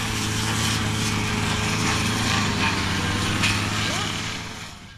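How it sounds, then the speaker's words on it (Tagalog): Grass cutter engine running steadily, a loud continuous buzzing drone that holds level before easing slightly at the end, with a voice speaking faintly underneath. "Nasiyahan na si Makmak mag-grass cutter."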